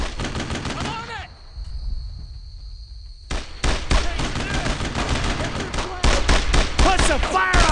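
Rapid WWII rifle and machine-gun fire in Brothers in Arms: Road to Hill 30, loud dense volleys with a brief lull, while soldiers shout over the shooting.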